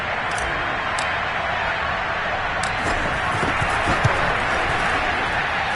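Football stadium crowd roaring after a big play in the 4th quarter: a dense, sustained wash of cheering and noise at steady loudness, with speech faintly under it.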